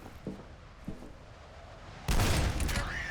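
A few faint distant pops, then a sudden loud burst of rapid fire from an MP50 repeating cannon in the game F.E.A.R. that keeps rattling and roaring for about a second.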